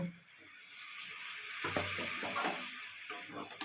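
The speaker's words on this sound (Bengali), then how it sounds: "সামান্য জল দিয়ে কষিয়ে নেব" Soybean chunks and vegetables are sautéed in a pan with a little water and a pinch of sugar, giving a soft, steady sizzle with scraping stirs over it, moderately quiet throughout.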